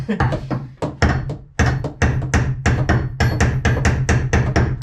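Rapid, loud metallic hammer blows strike a pipe elbow of a boat's cockpit drain in quick irregular bursts, with brief pauses between flurries.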